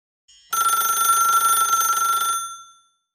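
A telephone bell rings with an incoming call on a children's call-in show, one loud bright trill lasting about two seconds that then fades out quickly, with no talk over it.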